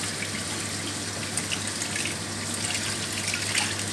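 Tap water running steadily into a kitchen sink as greens are washed, a continuous close hiss and splash with slight shifts in the flow, loud and unbroken with no talk.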